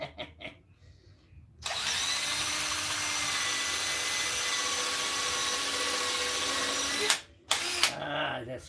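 A power drill whirs steadily for about five seconds after a quiet start, then cuts off abruptly, followed by a couple of brief knocks.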